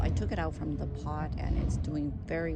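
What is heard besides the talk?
No everyday noise stands out behind the speech.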